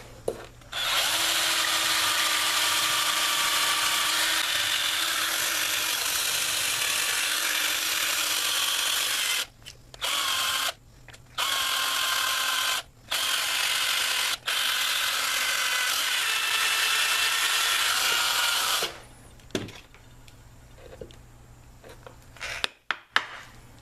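A power drill fitted with a smaller bit bores out a stripped plastic control knob from a gas grill, whining steadily for a long stretch, then stopping and starting in short bursts.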